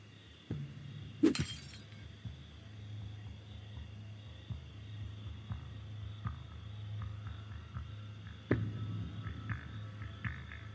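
In a video game, glass shatters as a vehicle drives through it, giving two sharp crashes several seconds apart over a low engine hum and scattered smaller clinks.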